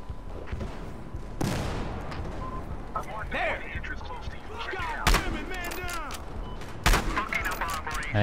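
Gunshots ring out in Battlefield Hardline: a few loud, sharp cracks spaced several seconds apart, mixed with game sounds while someone talks over them.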